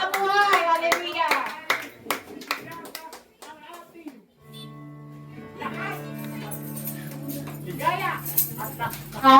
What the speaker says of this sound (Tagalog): Palakpakan po natin ang ating Panginoong Diyos na buhay.